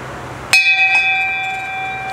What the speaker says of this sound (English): So we just arrived here, rang the bell